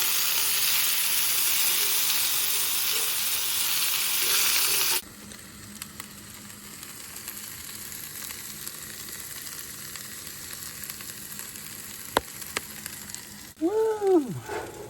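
Vegetables fry in a pan at a cold-weather wilderness campsite in Appalachia, a loud steady sizzle for the first few seconds that then drops to a quieter background crackle, with a brief stir or clink near the end.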